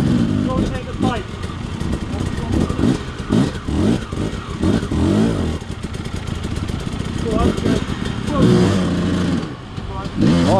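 A dirt motorcycle on a greasy green lane gives a quick double throttle blip, two sharp revving rises over a rough, burbling idle, loud and close.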